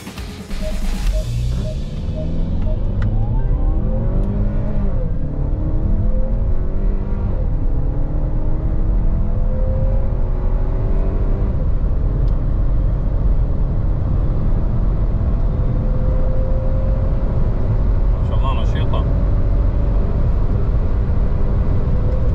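A 2023 Chery Tiggo 8 Pro Max SUV with a turbocharged four-cylinder engine accelerating hard, engine note climbing through gears with a steady loud road and wind roar inside the cabin, no talking.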